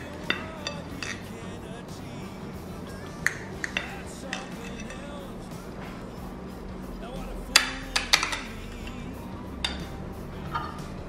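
A knife and utensils clink and tap against a dish while a piece of Maria biscuit pudding is cut, with sharp scattered knocks and scraping under a low background.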